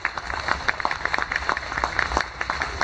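A cruise ship's audience aboard the Star Princess gives the ship's company sustained applause. Many hands clap steadily, moderately loud, with a dense, even crowd texture throughout.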